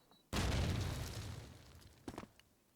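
A grenade blast in Call of Duty 2, one sudden loud boom with a rumbling tail that fades over about a second, followed by a brief burst of smaller crackling sounds.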